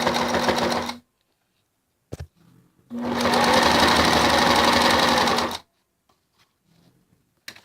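A sewing machine stitches a pajama pants hem in two steady whirring runs, a short burst and then a longer one, separated by a brief click and a pause, close and alone.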